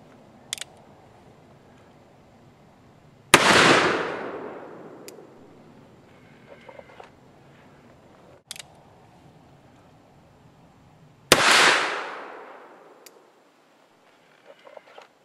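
Two loud gunshots from a Ruger Old Army black powder revolver loaded with 35 grains of powder behind a round ball, each a sharp crack with a long booming decay, about eight seconds apart, with small clicks and handling noises between.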